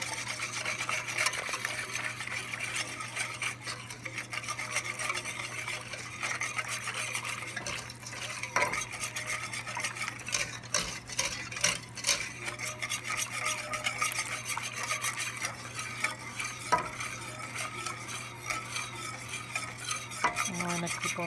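A whisk stirs Alfredo sauce powder in a pan, making a continuous, close, rhythmic scraping and rubbing against the metal with faint low hum underneath, steady throughout, and no speech.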